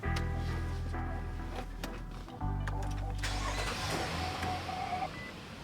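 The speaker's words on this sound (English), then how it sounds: "So go ahead and turn on the car." A 2013-2021 Infiniti QX60 engine cranks and turns over, settling into a steady idle, close and loud throughout.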